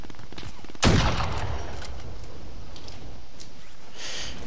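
A single loud burst of gunfire from a weapon in the Call of Duty video game, close and sharp, then fading into steady game background noise.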